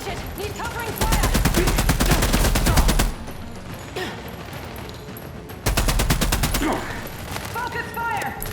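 Rapid automatic gunfire in The Expanse: Osiris Reborn, a sci-fi shooter, rattling loud and close in two sustained bursts separated by a quieter stretch, with in-game combat voices.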